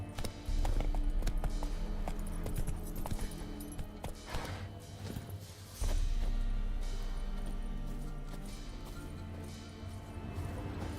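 Roach the horse gallops in The Witcher 3, a rapid, loud drumming of hoofbeats mixed with game music and ambience, easing briefly in the middle before the pounding resumes and continues to the end.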